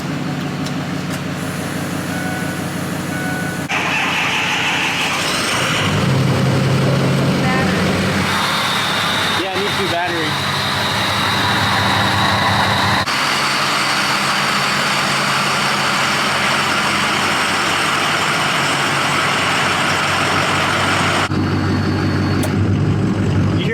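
Ford 6.0 Powerstroke diesel pickup running an 03 turbo, idling and revving with a loud, deep rumble and turbo whistle, close to the microphone and sustained throughout, with the engine note shifting in pitch as it is revved.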